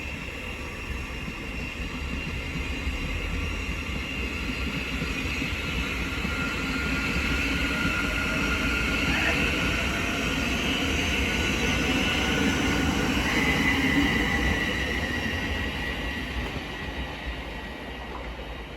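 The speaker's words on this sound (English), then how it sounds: "Now departing is the 1426 Thameslink service from Cambridge to Brighton" Thameslink train pulling out of Hitchin station on the East Coast Main Line, a steady broad rumble of rolling wagons and wheels that swells near the middle and fades slowly, with no talk over it.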